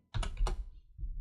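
Quick bursts of key clatter on a computer keyboard during a World of Warcraft session, a short flurry of close taps followed by a pause and a few more strokes, with no talking.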